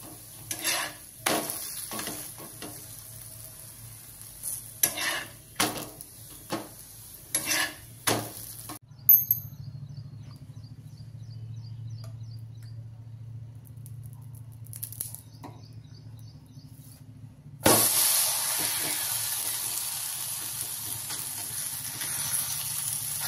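Dahi dhapate, Marathwada-style flatbreads, cooking on a pan: a rhythm of scraping and tapping strokes at first, then a quiet stretch with a low hum, then a steady soft sizzle, close but fairly faint, without talking.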